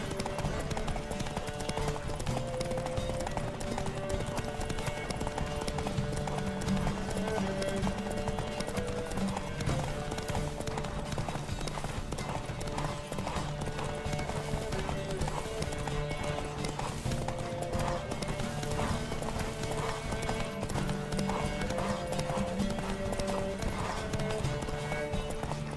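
Horse hooves galloping in the video game The Witcher 3, a steady rapid clip-clop running continuously under a dense, full background of game sound.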